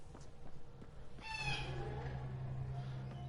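An alien bird creature in Mass Effect Andromeda lets out a raspy, harmonic squawk midway, rising over a low steady game ambience.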